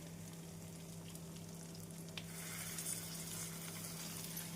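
Banana flower sautéed over medium flame in a pan with softened onion and tomato, giving a steady close sizzle and frying hiss that swells louder about halfway through, with no talking.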